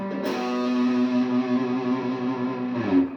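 Distorted electric guitar played through an effects unit on a riff, a sustained ringing chord held loud and steady for about three seconds before shifting to a new note near the end, with no talking.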